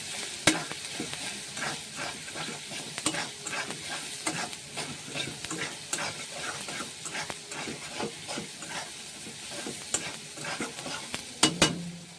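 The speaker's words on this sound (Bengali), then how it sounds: "দেখতে পাচ্ছ টমেটো মশলা ফ্রাই হয়ে গেছে" Tomato and spice masala with cumin, coriander and chili powder frying in a pan, a dense continuous sizzle and hiss with frequent scraping stirs and clinks, close up with no talking.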